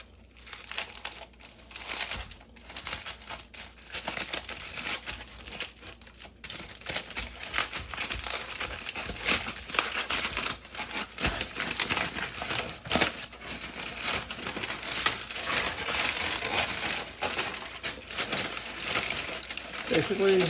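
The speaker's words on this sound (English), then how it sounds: "We can just unwrap it and see what it looks like here." Plastic wrapping crinkles and crackles continuously as a cooled vegan Hungarian sausage (kolbász) is unwrapped, with a soft, close, steady rustle.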